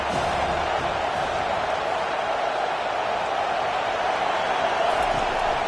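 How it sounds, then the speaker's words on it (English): A football stadium crowd roaring for the defense on third down, a steady, dense wall of noise holding at an even loudness throughout. "Decibels rising as the crowd gets behind this defense on third down."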